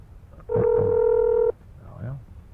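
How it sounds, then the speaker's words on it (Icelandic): A single telephone DTMF tone for a call to the White House, one steady bright beep lasting about a second, with faint low voice sounds around it. "við erum þetta núna að reyna að ná í Hvíta húsið í Washington eða Hillary í símanum"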